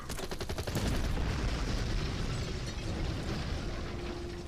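Battle sounds from the Order of Battle US Marines war game: dense, continuous gunfire and explosive booms blending into a loud rumbling barrage that runs throughout without pauses.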